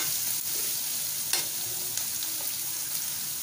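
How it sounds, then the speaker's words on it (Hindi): Stuffed bitter gourd (karela) frying in a pan with a steady, close sizzle, stirred with a few soft scrapes and clicks, no voices. "अब हम इसे अच्छे से हिला लेंगे और इसे हल्का सा गोल्डन ब्राउन होने तक ऐसे ही फ्राई करेंगे।"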